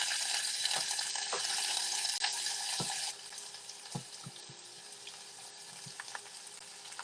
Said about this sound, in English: I'm gonna fry some onions.